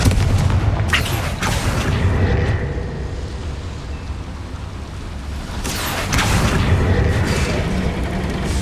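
A Confringo fire spell explodes in the video game Hogwarts Legacy, a loud booming blast with rumbling bursts that fade and then swell again, with no talk over it.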